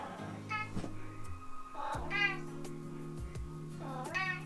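A house cat meows three times in close succession, each call rising and wavering. Steady low background hum runs underneath.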